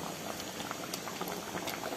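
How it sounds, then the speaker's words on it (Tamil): Onion tomato sambar boils in a pot, giving a quiet, steady bubbling with soft pops and small splashes, close up and with no voices. "இப்போ நம்ம பொடி சேர்த்தினோடனே 1-2 நிமிஷம் நல்லா கொதிச்சிருச்சுங்க"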